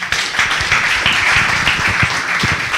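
At a media forum on French cinema, an audience applauds a film director, a close, loud and steady patter of many hands clapping throughout.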